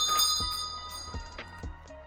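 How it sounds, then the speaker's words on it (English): A doorbell chimes indoors with a few ringing bell tones struck in quick succession, clear and moderately loud with a lingering sustain. "That was the doorbell."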